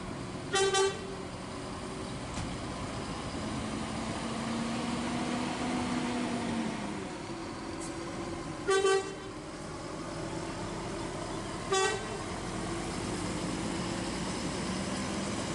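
ANS bus departing and sounding its horn in three short blasts, loud and near, over steady engine rumble and traffic noise.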